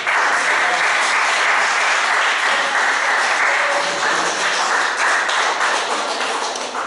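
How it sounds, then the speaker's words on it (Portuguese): A church congregation applauds during a service, a dense, continuous roar of clapping that stays loud and steady throughout and fades only slightly at the close. "As palmas são para o Senhor."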